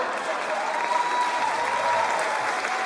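A stand-up comedy audience applauding and cheering, a dense, steady wash of clapping from a crowd that holds up for the whole stretch, with faint talking mixed in.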